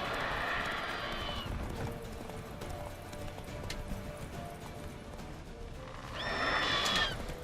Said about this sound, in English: Okay, the horse is getting freaked out.